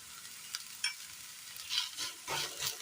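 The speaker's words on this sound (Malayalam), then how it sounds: "ഇട്ട് കൊടുത്ത് നന്നായി ഒന്ന് ഇളക്കിയെടുക്കാം" Crushed garlic and ginger are stirred in a pan with a spoon, giving a few soft scraping strokes over a faint sizzle. The sound is quiet and close, with no talking.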